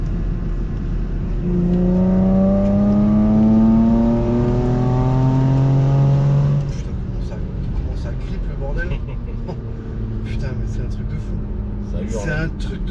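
A 2016 Porsche Macan GTS engine rises loudly through the revs for several seconds while driving, then settles into a steady background hum as someone speaks over it.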